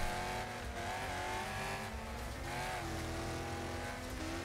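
Car engine droning steadily in the Wreckfest racing game, a continuous loud motor hum with shifting pitch as the car scrapes along a guardrail through a sharp bend, with no talking.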